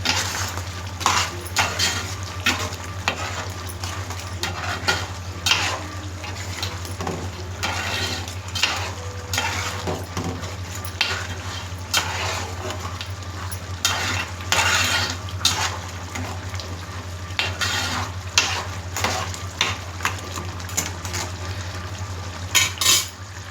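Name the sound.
stirring spiced tamarind curry in a frying pan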